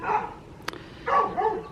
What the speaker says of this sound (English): If you hear dogs barking, it's the neighbor's dog.